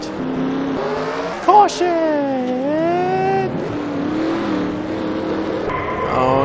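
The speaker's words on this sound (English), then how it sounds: "he spins his tires, and he loses grip" In a racing video game, car engines whine and rise in pitch as tires spin and lose grip and the cars spin out. An excited commentator talks loudly over the engines.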